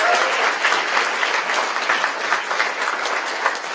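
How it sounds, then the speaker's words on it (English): At a TEDx event, a crowd gives the speakers sustained, full applause, a thick steady roar of clapping filling the room. "a huge round of applause for all the speakers that are lounging back in the front row"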